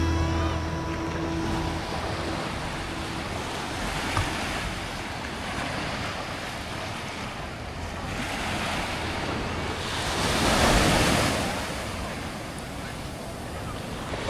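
Steady surf rolls in continuously on the golden sand beach of Bolinao, Pangasinan, with a broad wash of breaking waves, one swell building louder near the end, with wind buffeting the microphone.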